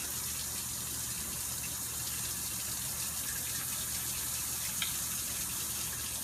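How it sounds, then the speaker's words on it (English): Hands are rinsed under a running tap, a continuous even gush of water throughout with no talk over it. "So when you rinse your hands, you don't want to recontaminate."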